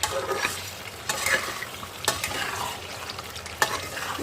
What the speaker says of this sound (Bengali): আমি কিন্তু কষাতে থাকবো বেশ কিছুক্ষণ কষাতে থাকবো গ্যাসটা অবশ্যই সিমে দিয়ে ভালোভাবে কষাতে হবে